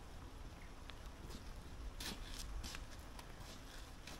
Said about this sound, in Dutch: Keiharde regen